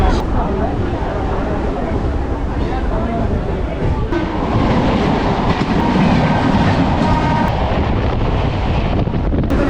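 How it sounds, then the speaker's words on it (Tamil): A commuter train rumbles and clatters steadily, loud and close, with wind buffeting throughout as it rolls into Pallavaram station near Chennai. "இப்போ ட்ரெயின் பல்லாவரம் ஸ்டேஷனுக்குள்ளே என்ட்ரி ஆகுது"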